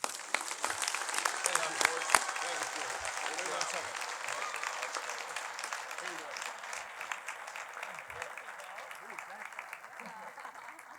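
Sustained applause from an audience at a county sports hall of fame induction ceremony, steady clapping filling the hall for several seconds without a break.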